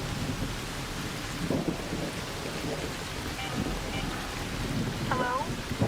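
Thunder from an electromagnetic storm raging in a video game, low rolling rumbles over steady rain-like hiss, with a few brief tonal blips and a voice speaking faintly underneath.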